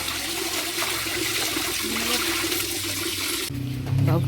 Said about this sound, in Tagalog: Ang gawas na ang tubig.